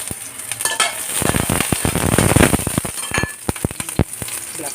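Garlic and onions fry in a hot pan with a constant bright sizzle, broken by the sharp scrapes and clinks of a utensil stirring them up close.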